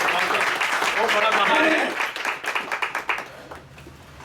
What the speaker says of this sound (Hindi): एक बार जोरदार प्रभु के लिए ताली बजाएं।